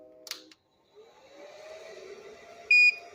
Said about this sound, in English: the machine's supposed to beep one time and start booting